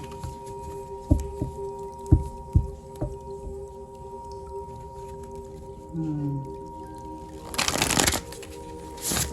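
Slippery tarot cards are shuffled by hand close up: a few soft riffles and slaps early on, then a louder burst of flicking cards near the end, with no talking.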